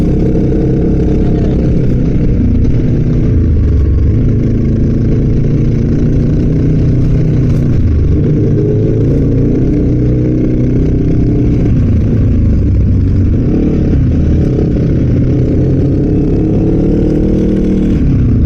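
A motorcycle engine rumbles steadily and loud up close, with small rises and dips in revs as it rides along a twisty road in Bongabon, Nueva Ecija.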